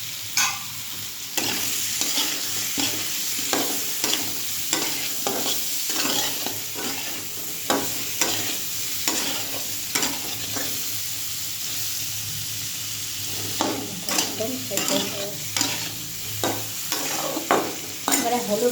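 Cumin seeds and green chilli fry in hot oil under a constant sizzle, punctuated by repeated rhythmic scrapes and knocks of a spoon stirring the pan.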